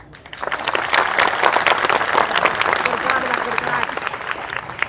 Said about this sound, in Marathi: हे वरच्या टाळ्या कशा वाजतात बघू बरं जरा